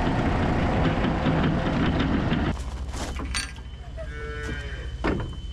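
Several Holstein calves riding in a moving livestock trailer, with loud rumbling road and trailer noise at first, then calves mooing nearby over quieter rattling.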